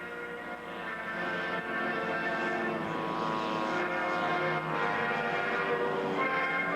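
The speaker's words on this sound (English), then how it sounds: "Planes and pilots head for home." A propeller plane drones steadily overhead, its engine hum rich and sustained and fairly distant, with no voices.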